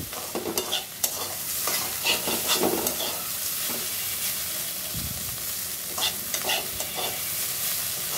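Spiny gourd sizzles steadily in a hot pan, with intermittent scraping and stirring sounds over the constant frying hiss.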